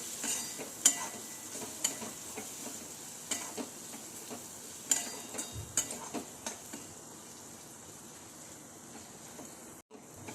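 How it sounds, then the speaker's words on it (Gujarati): Dry ground spices for sambhar (turmeric, red chilli powder, coriander-cumin powder and sambhar masala) being stirred in a pan with a light sizzle, scattered spoon scrapes and clinks over a steady hiss, no voices. "હવે એને બધું મિક્સ કરી લઈશું।"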